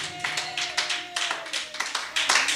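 A church congregation claps and cheers in praise during an evangelist's sermon, a steady run of dense overlapping handclaps with a sustained held tone beneath.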